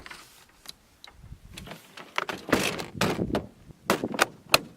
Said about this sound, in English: Close the topper and it's stored.